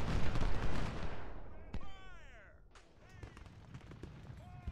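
Musket fire in the Ultimate General: Civil War video game, a rolling volley of distant crackling shots fading out, then scattered reports, with a voice talking over it.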